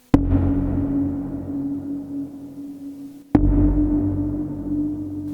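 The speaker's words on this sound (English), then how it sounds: "on the middle position here, we have another algorithm for reverb." Two struck notes from a Model D synthesizer through a Planetarium 3 reverb, each ringing out into a long, dark, murky reverb tail that fades slowly before the next hit.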